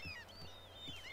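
Seagulls in the video game The Sims 3: several quick, squealing gull cries in succession over a low background, fairly close and moderately loud.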